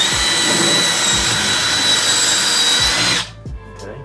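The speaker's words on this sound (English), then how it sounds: "we're gonna drill that right in the middle" A power drill whines loudly and steadily, boring through sheetrock, then stops abruptly, leaving a few quiet knocks.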